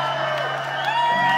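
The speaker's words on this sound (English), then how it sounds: "they will hear how a metal crowd is supposed to sound like" A metal concert crowd at a live show in Costa Rica cheers and whoops loudly, a dense sustained roar of many voices with rising shouts throughout.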